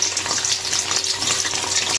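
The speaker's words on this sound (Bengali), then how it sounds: "এবার এর মধ্যে পনিরগুলো আস্তে আস্তে দিয়ে দেবো, দিয়ে হালকা করে ভেজে নেব" Paneer cubes fry in hot oil in a pan, giving a loud, continuous close-up sizzle with crackling spatter throughout, ending with an abrupt cut.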